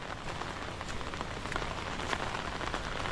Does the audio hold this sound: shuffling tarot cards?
no